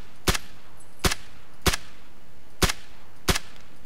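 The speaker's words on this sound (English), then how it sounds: "Doesn't know where I'm shooting from." Gunfire in the battle royale video game PUBG (BattleGrounds): six sharp, evenly spaced single shots about a second apart, crisp and fairly loud over a quiet background, with no speech.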